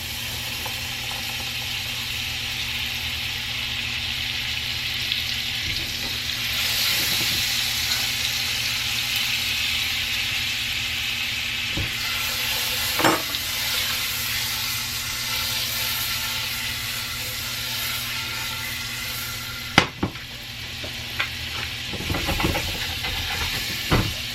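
A tablespoon each of olive oil and butter sizzles in a hot pan, a steady close hiss that holds through the whole stretch, with a few faint clicks and knocks late on. No one speaks.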